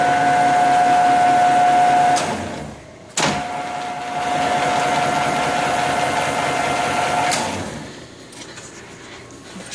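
An old heavy machine runs with its drive passing down through a gearbox that switches gears, making a loud steady mechanical hum with a tonal whine. It drops off with a clunk around the third second, resumes, then winds down near the end.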